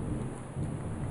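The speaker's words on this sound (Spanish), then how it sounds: "De hecho, todavía está lloviendo." Heavy rain pours down during a night storm in Morelia, Michoacán, a faint, steady hiss with low rumbling beneath and no voices.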